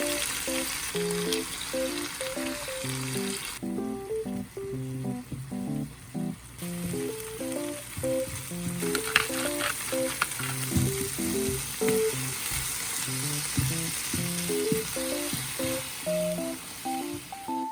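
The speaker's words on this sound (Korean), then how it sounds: "올리브유에 토마토랑 새우, 달걀 넣고 볶아주면 됩니다" Tomato, shrimp and egg frying in olive oil in a pan, a steady close sizzle with occasional stirring scrapes and rattles, along with a continuous tonal pattern of background music throughout.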